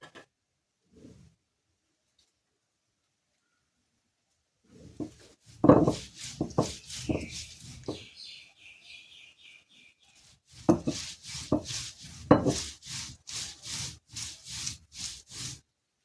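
Coconut, green chilli, cumin, garlic and turmeric are crushed in a grinder or mixer, heard as two bursts of short, rhythmic grinding pulses, the second more regular and rapid, after a near-silent start.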